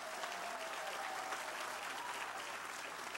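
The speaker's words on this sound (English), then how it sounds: "Let's give her a round of applause for all her hard work on this effort." An audience applauds at a groundbreaking ceremony, steady dense clapping from a crowd at moderate distance, sustained throughout.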